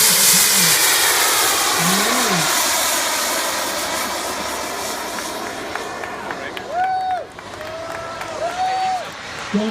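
An aerobatic airplane flying a high alpha maneuver drones overhead with a loud engine roar that slowly fades, its pitch sliding up and down, while people chatter in the foreground.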